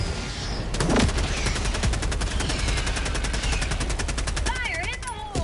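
Rapid automatic gunfire from a bug-shooting video game, a steady close stream of shots that runs almost the whole clip, with a few gun-handling clicks and electronic chirps near the end.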